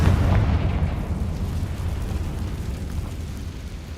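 A Confringo fire spell exploding in the Hogwarts Legacy video game, a deep rumbling blast that fades slowly into a low crackling roar across the whole span.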